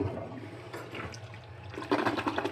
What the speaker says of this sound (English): Sink, toilet, give it all flush.